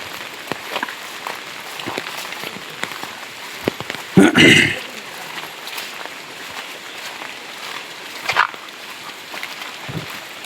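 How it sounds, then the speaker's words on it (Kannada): Rain patters steadily on leaves and surfaces in a plantation during the monsoon, a soft continuous hiss with scattered drips and a few louder splashes. "ನೋಡಿ ಮಳೆ ಕೂಡ ಶುರು ಆಯಿತು"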